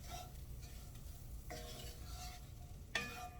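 Flour gets stirred into leftover pork chop pan sauce, a quiet sizzle beneath a few distinct scraping strokes and a final clink of the utensil against the pan.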